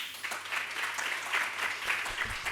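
An audience at an Islamic psychology program in Qatar applauds with a fairly soft, even patter of clapping hands. It carries on without pause through the short stretch.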